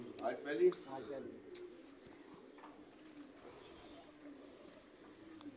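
A pigeon coos softly a few times near the start, followed by quiet room noise and faint speech.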